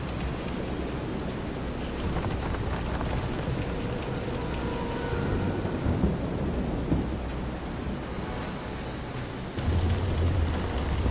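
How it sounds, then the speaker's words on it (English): A thunderstorm with heavy rain during a boat scene in the video game Visions of Mana, a dense continuous roar of rain with rolling thunder underneath and a deeper rumble swelling near the end. "This is some storm."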